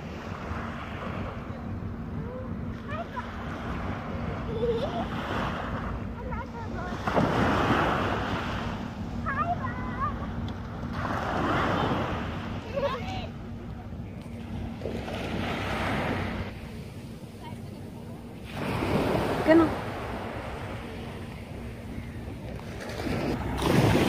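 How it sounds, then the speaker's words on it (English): Waves at Jumeirah beach roll in and break on the shore in repeated surging washes every few seconds, steady and fairly loud with wind buffeting the microphone. "I think there's a big wave"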